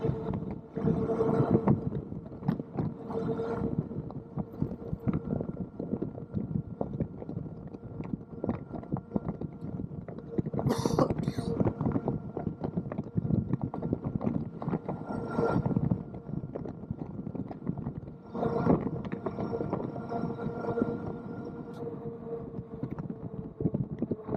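A Kingbull Rover full-suspension electric mountain bike ridden at full throttle outdoors, with steady rolling, rattling noise and wind buffeting the microphone throughout, plus a few brief sharper bursts along the way.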